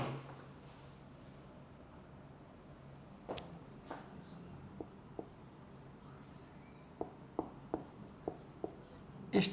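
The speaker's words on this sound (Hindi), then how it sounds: "मैं लिख भी देता हूँ ये दोनों आपके लिए।" Marker or chalk writing on a board during a lecture, with faint squeaky strokes and a cluster of short taps and dabs toward the end over a quiet room hum.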